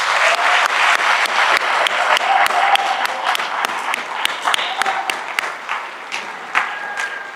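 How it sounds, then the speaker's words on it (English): Audience applause at a Latino recognition ceremony, a steady wash of many hands clapping with sharp individual claps standing out, tapering slightly toward the end, with a faint voice murmuring underneath. "I want applause for them for having that"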